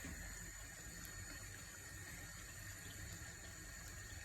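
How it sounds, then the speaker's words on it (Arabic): Boiled water is poured from a kettle while cooking chicken with lemon, a faint, steady trickling stream heard up close for a few seconds. "نجيب ميه من الكتل"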